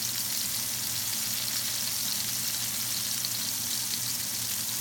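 Homemade hamburger patties fry in a pan with a steady, close sizzle and spattering crackle that holds evenly throughout, with no voices.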